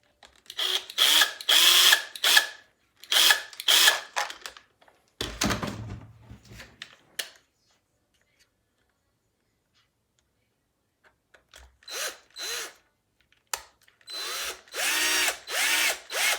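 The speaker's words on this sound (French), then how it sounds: "2 minutes pour foutre une vis, des fois c'est comme ça." A power screwdriver drives a screw into a Traxxas Maxx RC car kit in short, close bursts of whirring and ratcheting. A longer pause falls between the groups of bursts.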